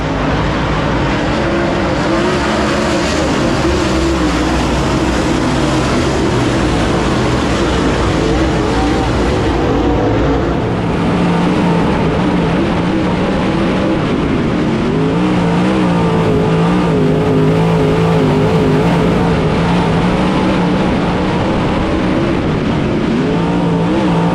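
Race cars roar around a dirt track during a 100-lap event, engines droning and shifting pitch as the pack passes, loud and continuous with a distant crowd wash underneath.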